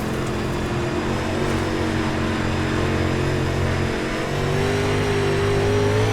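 A UMP race car on the dirt track at Volusia gives a loud, continuous engine drone with a steady pitch that rises slightly toward the end, heard alone without talk.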